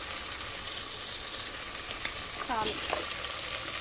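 Ingredients frying in a pan ahead of ginger-garlic paste, with a steady, close sizzle. A voice briefly speaks near the end.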